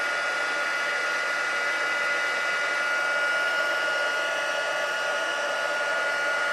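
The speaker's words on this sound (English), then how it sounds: "Melt the embossing powder again." Crafting heat tool blowing hot air to melt gold embossing powder on a Christmas card, a steady high whirring hum that is close and constant throughout, with no speech.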